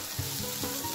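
Okra bhaji sautés uncovered in a pan with a short, even sizzle and soft frying crackle up close.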